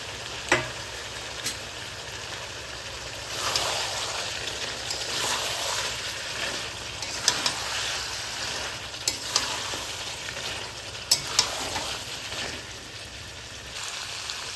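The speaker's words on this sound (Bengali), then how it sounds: "টমেটো দেওয়ার পরে আমরা 20 মিনিট ভালোভাবে কষে নিয়েছি" Mutton with chopped tomato is sautéed over low heat in a pan, giving a continuous spattering sizzle with occasional metallic scrapes and taps of a stirring spoon, close and steady throughout.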